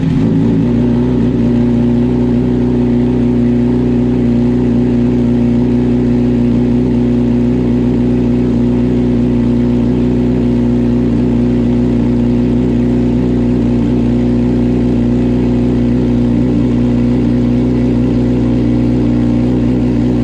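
A Honda CBR1000RR sport motorcycle engine is running loud and close, with a strong, steady low drone and slight rev swells throughout and no speech.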